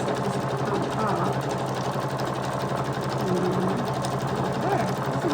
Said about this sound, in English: I'm trying to get all of this sewn down so it doesn't come off.